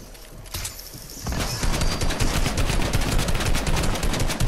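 Gunfire in Fortnite cracks out in rapid, dense bursts, loud and close, building after a brief quieter opening into continuous rattling shots.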